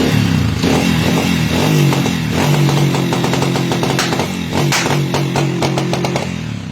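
A Honda TMX motorcycle with its engine converted to 155cc idles steadily and loudly close by, a constant low engine drone with clattery mechanical ticking and a few sharp snaps on top, with no talk.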